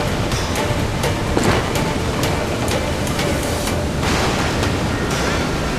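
Ocean waves and a waterspout in the pirate video game Assassin's Creed IV Black Flag, a constant loud roar of surf and wind with intermittent crashing bursts.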